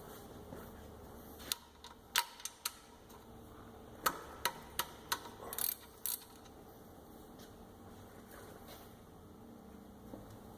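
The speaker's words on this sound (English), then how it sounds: "So 15mm, simple ratchet setup." A ratchet with a 15mm socket works loose the oil drain plug on a 2012 Ford Focus 2.0L, giving a quick run of sharp, close clicks in short bursts over a faint, quiet background.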